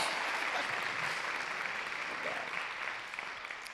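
Applause from an in-person audience at the Ban Righ Foundation Inspiring Women 2023 awards, a steady wash of clapping that gradually tapers and fades toward the end.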